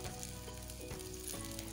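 Tuna sizzling and frying in a pan while an Algerian dish is cooked, a steady close crackle with faint stirring and no talk.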